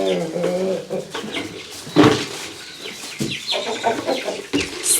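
Agitated hens clucking and squawking in a burst after a hen is bitten, with bird calls overlapping throughout and a sharp louder flurry partway through.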